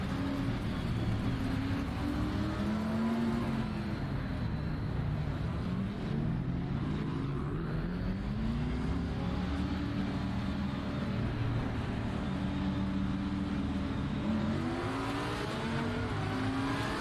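Bentley race car in a sim racing game on the short Zolder circuit, a steady loud engine drone rising and falling through gear changes with no talk.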